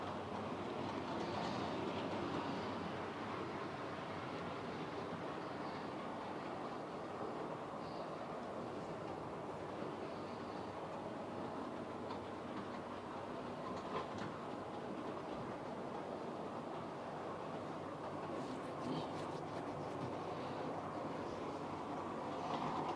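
An orange-liveried train with dark carriages rolls steadily around a track, a continuous rumbling and rattling wash with faint clicking, moderately distant and without talk.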